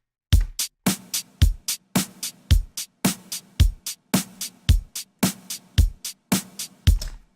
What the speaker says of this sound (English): I want this hi-hat to be on the offbeats